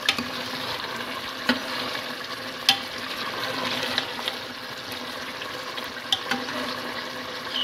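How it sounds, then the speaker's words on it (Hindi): A steady sizzling hiss of bottle gourd cooking in a pan on high heat as its water evaporates, with a few soft clinks of a utensil stirring, no voices. "अब मैं चूल्हे को तेज करके इसका पानी खुश्क कर लूँगी।"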